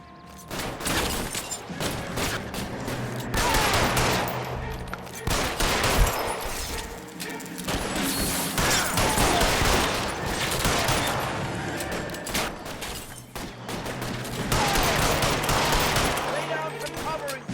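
Video game shootout with sustained automatic gunfire, rapid bursts and volleys of shots continuing throughout at steady loud intensity, with faint voices underneath.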